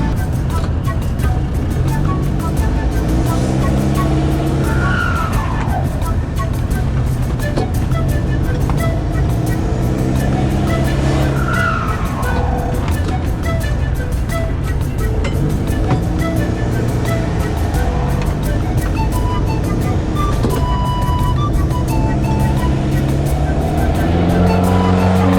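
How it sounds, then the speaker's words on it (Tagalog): A truck engine runs continuously at a steady loud level, a low rumbling drone with a few rising and falling revs. It is heard during a trip to Isabela with no talk over it. "Lakas tong makina nito."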